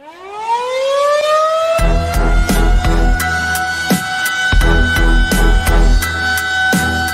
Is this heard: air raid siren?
yes